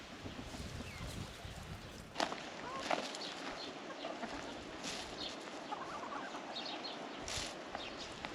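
Backyard chickens, including a newly added rooster, clucking softly in a garden flock, faint and scattered over steady outdoor background noise with a few brief sharper sounds.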